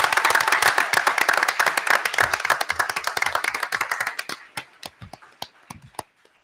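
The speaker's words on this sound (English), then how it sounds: "let's give them all another round of applause" A school committee meeting audience applauds recognized school staff, with dense sustained clapping that thins into a few scattered final claps.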